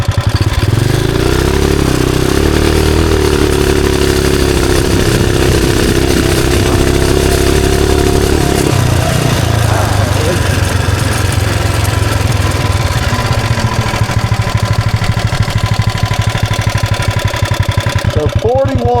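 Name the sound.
420cc big block mini bike engine on top speed run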